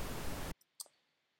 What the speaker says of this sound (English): So nothing's playing right now except the pink noise.